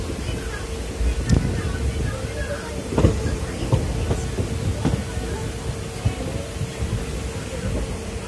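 A train pulling away from a station, a low rumbling roll with periodic clacks and knocks, heard close under steady wind noise.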